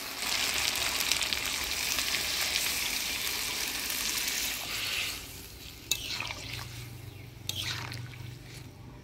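Chicken sizzles loudly in oil in a pan, a steady close frying hiss, then water is poured in and the sizzle eases into softer bubbling with a couple of sharp spattering bursts.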